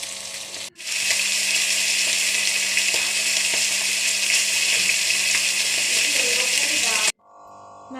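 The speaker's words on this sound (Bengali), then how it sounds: "মাছগুলো আমি একটু লাল লাল করে ভেজে নেব।" Pieces of bhola fish fry in hot oil in a kadai, producing a loud, steady sizzling crackle that runs unbroken for several seconds before cutting off abruptly.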